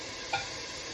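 Onions sizzle at the bottom of a chicken noodle soup pot as they deglaze it, a steady close hiss with a brief stirring scrape early on and no talking.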